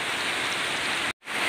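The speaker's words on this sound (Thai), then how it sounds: "ตอนนี้ฝนจัดเต็มแล้วครับผม" Heavy rain pours down in a dense, loud, continuous hiss outdoors during cooking, briefly cutting out near the end before returning at full strength.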